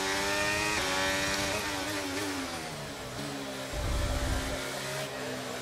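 F1 race car engine from the F1 23 video game, a loud sustained high-pitched whine with rising and falling revs and layered harmonics, a brief lower rumble near the end, no talking.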